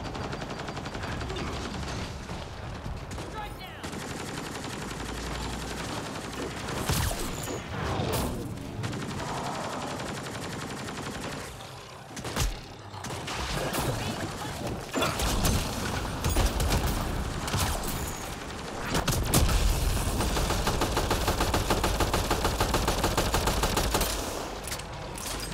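Sustained gunfire rattles through a Mass Effect: Andromeda battle, with dense automatic bursts and scattered shots overlapping throughout, loud and nearly continuous.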